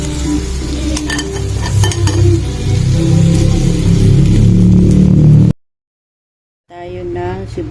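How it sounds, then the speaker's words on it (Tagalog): Onions sautéing in a small amount of oil in a newly bought frying pan give a loud, steady sizzle with stirring clatter for about five seconds. The sound then cuts to silence, and a voice comes in briefly at the end. "Magigisa na rin ako ng sibuyas."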